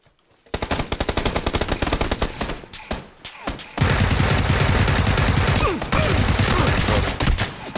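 Automatic weapons fire loud, rapid bursts in PlayerUnknown's Battlegrounds, with dense, fast strings of close shots broken by short gaps, the bursts continuing back to back without talk.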